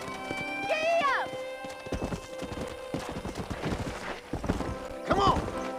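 Horse hooves clip-clopping at a gallop in a Red Dead Redemption western game, steady rhythmic beats up close, with a whinny and someone shouting over the riding.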